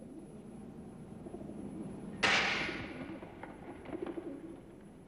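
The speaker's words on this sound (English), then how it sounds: "keeping down the pigeons that populate the empty stands" Pigeons in the empty stands of a stadium, with soft cooing over a steady outdoor hum and one sharp bang partway through.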